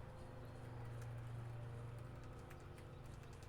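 Hooves clip-clop in a steady rhythm as a horse is ridden in an MMO video game, soft and even under a constant low hum.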